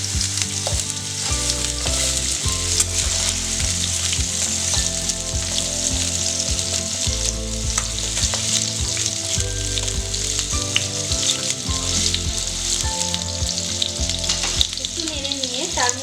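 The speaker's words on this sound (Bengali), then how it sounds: "তারপর আমি এতে দিয়ে দেবো কুমড়ো।" Pumpkin pieces frying in oil in a pan with a fish head, a continuous close sizzle with low background hum and occasional faint clinks, no voices.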